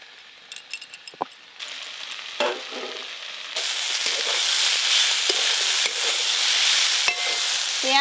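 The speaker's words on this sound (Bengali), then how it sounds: "পেঁয়াজ কুচি, আলু আর বটবটি করা একসঙ্গে ভালো করে ভাজা হয়ে গেছে সব কিছু" Onion, potato and long beans frying in mustard oil in a pan with green chillies, starting with a few scattered clinks and spatula scrapes before a loud, steady sizzle builds and stays close throughout.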